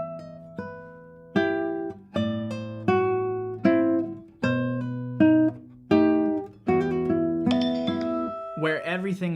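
A guitar plays a steady run of evenly weighted notes and chords with no melody brought forward, about ten plucked attacks, each ringing and decaying at a similar loudness, ending with a brief flurry.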